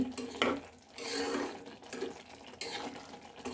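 A spoon stirs cooked rice in a pot, giving soft scraping and clinking against the metal in a few close, uneven strokes with brief pauses, no voices.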